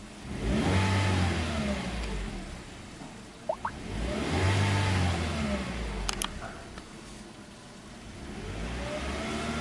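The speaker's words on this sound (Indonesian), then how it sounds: "Ini dia suara mesinnya, kayak gini." A 2018 Toyota Calya E with manual transmission runs close by, its engine rising and falling through several steady revs over a constant hum, with no talking.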